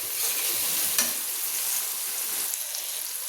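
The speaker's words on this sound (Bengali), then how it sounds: "তো আমি এইভাবে কথা বলতে বলতে কিন্তু মশলাটা কষিয়ে নিচ্ছি" Spice masala for a cabbage and chicken curry being stir-fried in oil, a steady close sizzle with a soft scrape of the spoon near the one-second mark and light stirring throughout.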